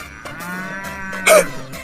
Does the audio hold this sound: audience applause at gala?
no